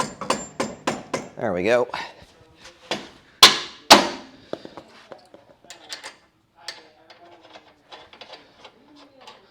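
Mallet blows on a control arm being fitted into an IFS front end on a 1946 Ford coupe: a handful of loud, sharp strikes in quick succession near the start, then a couple of heavier single hits, followed by light clinks and brief talk.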